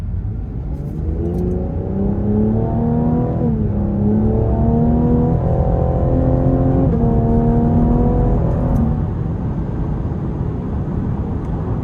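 A 2026 Cadillac CT5 3.0 twin-turbo accelerates hard in sport mode through several gears, its pitch climbing and dropping at each shift, loud and sustained with no voices.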